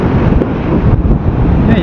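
Strong gusting wind roars steadily into the microphone during a motorcycle ride on a windmill-lined coastal road between Kanyakumari and Dhanushkodi, loud and continuous with no clear voices.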